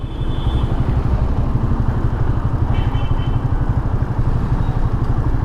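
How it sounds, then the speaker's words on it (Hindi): A TVS Apache RTR motorcycle idles with a grunty exhaust, a steady loud low-pitched throb with a rapid regular pulse and vibrating clatter running without a break throughout. "देखिए ट्रैक्टर की तरह वाइब्रेट कर रही है इस टाइम एक बाइक"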